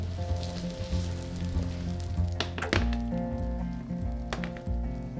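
Sweet potatoes sizzle and crackle steadily in a hot pan, a close, continuous frying hiss with occasional sharper pops.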